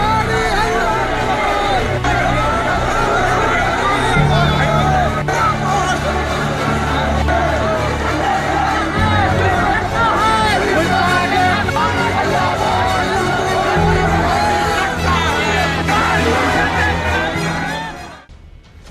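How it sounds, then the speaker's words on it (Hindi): A large protest crowd in Uttarakhand demanding justice for Ankita Bhandari, a dense roar of voices and chanting that holds steady, then drops away at the very end. "ये भीड़, इस भीड़ की आवाज आज अपने हक के लिए नहीं, बल्कि उत्तराखंड की बेटी अंकिता भंडारी को इंसाफ दिलाने के लिए"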